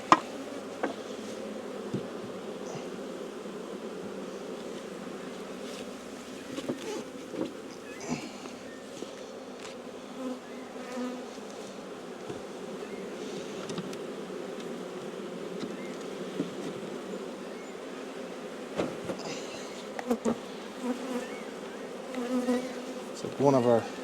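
Honeybees hum steadily around an open beehive in a bee yard as it is put back together, with a continuous buzzing drone and occasional faint knocks and handling noises close by.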